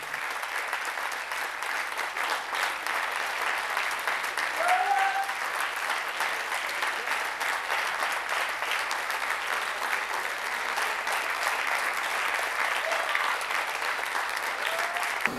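Theatre audience applauding steadily after a stage performance, a dense, even wash of many hands clapping that holds at a constant level throughout without letup.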